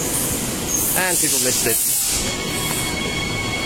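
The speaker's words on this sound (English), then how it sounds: "That is the last Mandurah train for the day." A C-series suburban train on the Mandurah line pulls out of a station with a steady hiss and rumble, while a nearby voice speaks briefly over the noise.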